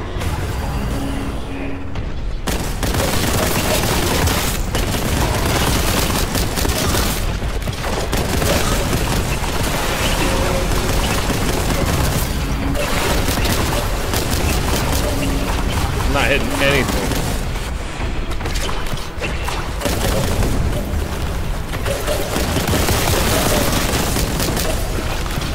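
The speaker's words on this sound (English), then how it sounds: "They're gonna be shooting people." Heavy weapons fire on a gun deck in Warhammer 40,000: Boltgun: loud, continuous volleys of booming shots and blasts fill the whole stretch, with voices talking over the barrage.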